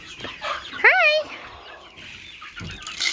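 A barred rock and Americana mix chicken gives a short, sharp cluck-like call on a windy barn visit, brief and fairly close, with wind noise and a few soft voices around it.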